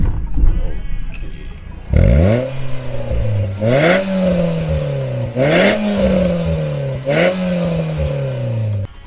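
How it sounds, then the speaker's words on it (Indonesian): A Nissan March Nismo engine revs four times in a row through its Nismo exhaust, each blip rising sharply then settling into a deep exhaust rumble, loud and close with no talk. "tadi barusan gua kasih gas-gas sedikit untuk ngedengar suara dari knalpot Nismo-nya itu seperti apa"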